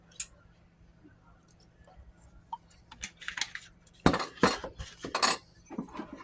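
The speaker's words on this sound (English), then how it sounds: "Mix it." A spoon scrapes and clinks against a bowl while icing for an eggless applesauce cake is mixed with a little vanilla, quiet at first, then louder bursts of rapid stirring and tapping toward the end.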